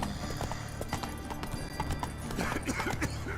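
Roach the horse trotting in The Witcher 3, steady clip-clopping hooves close by in a continuous rhythm over ambient town background.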